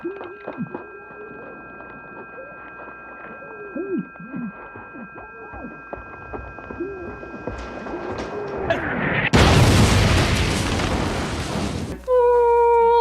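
A loud explosion from an episode of the TV drama Lost: after quiet dialogue, a sudden broadband blast roars for about three seconds, then cuts to a ringing, high tonal aftermath.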